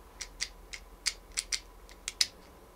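A Hasbro Ghostbusters toy mechanism springs open after a button press, giving a quick series of about nine light plastic clicks and snaps in an uneven rhythm, close and fairly quiet.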